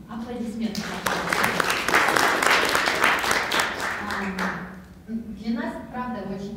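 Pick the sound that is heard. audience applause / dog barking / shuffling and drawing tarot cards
audience applause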